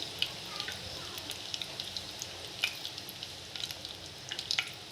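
Oil heating in a pan sizzles and crackles softly, a steady hiss broken by scattered small pops throughout.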